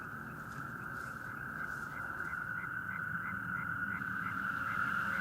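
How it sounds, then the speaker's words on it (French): Natterjack toads trill at night, a steady faint chorus a few hundred metres off, with a European tree frog's regular pulsing calls layered over it. "Là, on a un fond sonore avec des crapauds calamites qui doivent être à 200 ou 300 mètres d'ici."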